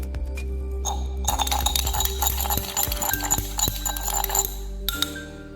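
A spoon stirs sand into water in a glass, giving a steady run of bright clinks and scraping taps against the glass, close and fairly loud over a low background hum.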